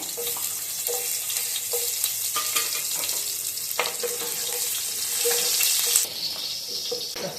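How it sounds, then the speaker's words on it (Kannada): Continuous sizzling and crackling of onions frying in hot oil, with scattered stirring clinks and scrapes, near and fairly loud throughout. "ಈಗ ಚೆನ್ನಾಗಿ ಕಾದ್ಮೇಲೆ ಈರುಳ್ಳಿ ಹಾಕೊಳ್ಳೋಣ ಒಗ್ಗರಣೆಗೆ"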